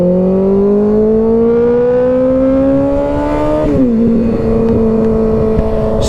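A Ninja ZX-6R 636 motorcycle is ridden with its engine loud and close, the pitch climbing steadily through a gear, then dropping with a shift and holding on.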